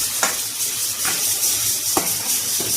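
An onion, dry coconut and garlic spice paste fries in hot oil with a steady loud sizzle and hiss. A few spoon strokes stir it at intervals, heard close up.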